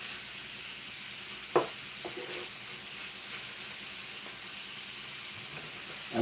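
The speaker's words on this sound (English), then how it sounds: "let's get the onions mixed in with my meat now." Onions stirred into pork loin frying in a pan, a steady close sizzle with occasional scraping and clinking of a utensil against the pan.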